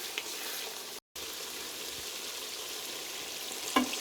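Mutton pieces added to a sizzling butter masala gravy for makhni biryani, a steady close hiss of frying throughout with a brief dropout and a small clatter near the end.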